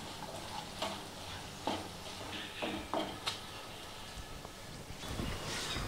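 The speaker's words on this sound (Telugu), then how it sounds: "బాగా కలుపుదాం." Vegetable pulao ingredients with ginger-garlic paste and salt sizzle in a pan while a spoon stirs, making repeated scraping strokes over a soft, steady frying hiss, close and fairly quiet.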